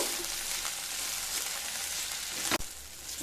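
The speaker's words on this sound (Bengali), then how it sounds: "দুটো কাঁচা লঙ্কা আর দিয়ে দেব একটা ছোট সাইজের কেটে রাখা টমেটো দিয়ে হালকা ভেজে নেব" Chopped ginger, garlic, green chillies and a small cut tomato fry lightly in a pan for a coriander katla fish dish, giving a steady close sizzle with one sharp clatter near the end.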